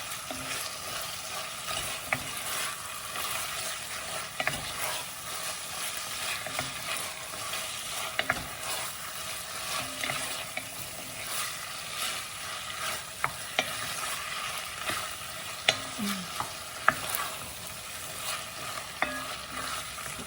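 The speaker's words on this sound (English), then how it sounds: "And then we're going to saute the chicken" Chicken sautéing with lime leaves for Thai green curry sizzles steadily in a pan, with a spoon stirring and scraping at intervals; close and continuous, no voices.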